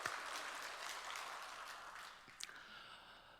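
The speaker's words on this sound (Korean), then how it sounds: "우리 영광 받으신 주님께 감사의 박수 올립시다" A church congregation gives a brief round of applause in thanks during a Sunday worship service. The clapping is soft and distant and fades away into quiet after about two seconds.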